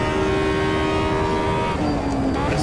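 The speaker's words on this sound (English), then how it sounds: "being a motorcycle engine, it revs. I mean, it really revs. It's just screams all the time" Camaro fitted with a motorcycle engine in Automobilista 2, screaming at high revs in a constant loud whine that dips slightly in pitch near the end.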